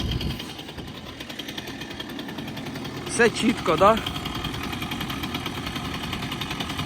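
A moped engine idles outside a village house in -12 frost, a steady low rumble running throughout, with a voice speaking over it near the middle.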